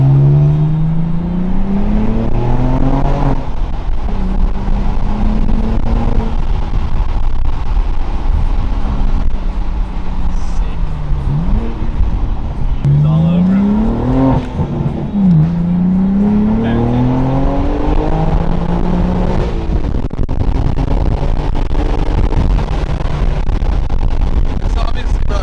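A straight-piped BMW M4 with no muffler and stainless steel exhaust revs repeatedly, its sharp rising and falling blips close and loud, with people talking over it.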